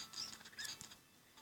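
A quick flurry of soft fluttering wing flaps from a bird in Pixel Gun 3D, with faint chirpy high tones, short and fairly quiet, fading out before a last small flutter.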